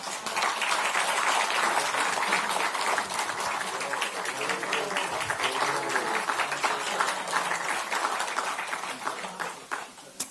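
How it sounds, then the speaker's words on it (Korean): Sustained applause from a crowd at a South Korean Democratic Party caucus meeting, steady clapping for about ten seconds before it tapers off. "그래서 박수 한번 부탁드립니다"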